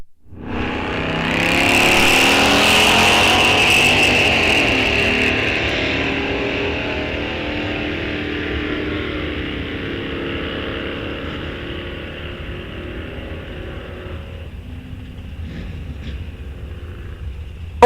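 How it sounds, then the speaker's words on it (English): Drag racing at Rock Falls Raceway: a 1958 Chevy business coupe and an El Camino launch together, a loud roar of engines swelling near then fading into a sustained, receding drone down the strip, with no talk. "There is that short 58 Chevy, the shortest 58 Chevy you'll ever see. The business coupe."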